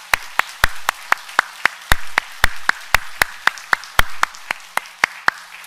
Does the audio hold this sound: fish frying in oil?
no